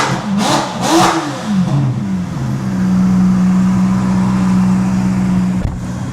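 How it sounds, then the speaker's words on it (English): Ferrari F8 engine revving as heard from inside the cabin, a couple of quick sharp blips followed by a long sustained high-rev drone that cuts off near the end. "here's what it sounds like when you rev the engine from the inside"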